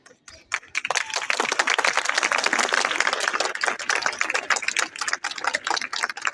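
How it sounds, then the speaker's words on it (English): Audience applause at a school ceremony: a dense crowd of hands claps continuously for several seconds at moderate distance, thinning into scattered claps toward the end. "A big round of applause for our organized head girl."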